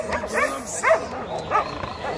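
A dog barks and yelps in short bursts at a busy Friday dog market, with crowd noise and voices around it.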